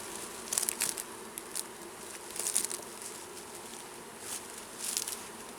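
Bees buzz around an open beehive, with soft humming bursts that swell and fade as individual bees fly close to the listener, over a quiet background.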